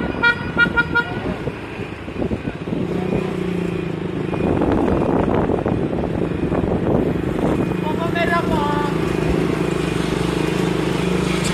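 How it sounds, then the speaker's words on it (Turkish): Motorcycle engines revving during a dangerous stunt show by young riders in Gaziantep, a steady loud roar with rising and falling pitch, horn toots and people talking over it. "Gaziantep'te tehlikeli motor gösterisi yapan gençler."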